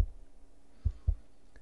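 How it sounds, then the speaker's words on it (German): Resting horse heartbeat heard through close monitoring, a soft paired thump near the start followed by two more low, muffled beats about a quarter second apart, faint over a quiet hum. "Jeder Zweierschlag ist ein Herzschlag."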